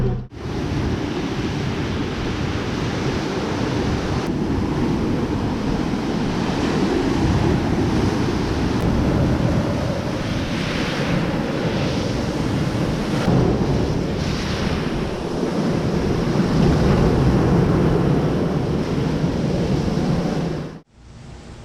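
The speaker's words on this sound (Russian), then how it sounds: "За окном снова дожди, шторма, ветер, непогода." Stormy weather outdoors in the Philippines, a continuous roar of strong wind buffeting the microphone with a surf-like rush, loud and steady for about twenty seconds before cutting off abruptly.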